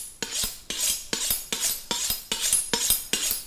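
A kitchen knife used for cutting pork fat scraped along a sharpening steel in quick, even strokes, about eight rasping passes, close and clear with no talking.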